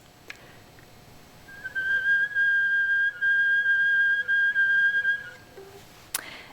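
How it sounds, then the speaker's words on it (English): Light, airy whistle tones drawn from the harmonic series on a wind instrument, a thin sustained pure pitch held for a few seconds, soft and alone. "whistle tones, these are, as the name suggests, very light whistle-like sounds that are based on the harmonic series."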